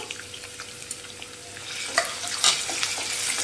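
Green chilies and onion pieces frying in a pan of tempering for Andhra majjiga pulusu, a steady low sizzle with scattered crackles and pops growing louder toward the end.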